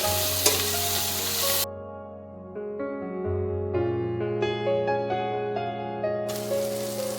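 Young jackfruit frying lightly with salt and turmeric, a loud broadband sizzle at the start and again at the end, with quieter stretches between, no speech.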